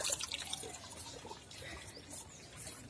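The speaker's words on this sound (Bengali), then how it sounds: "গাছে জল দিই।" Water poured from a mug onto garden plants splashes and trickles softly for a few seconds, quiet and close, with a brief louder spatter at the start.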